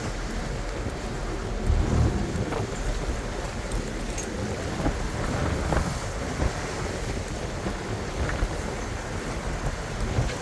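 Wind roars and ocean waves wash against a sailboat at sea in rough conditions, a loud, continuous rushing with heavy wind buffeting on the microphone and occasional surging swells.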